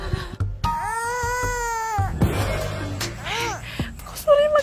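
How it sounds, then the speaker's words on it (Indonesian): A baby cries in a long wailing tone and then in repeated rising cries that grow louder, heard on a road with other background sounds, while adult voices and noises run under it. "Masa di tengah jalan begini ada suara bayi sih?"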